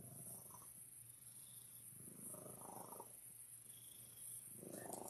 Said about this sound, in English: He's got the purr that registers in the measurable decibel region.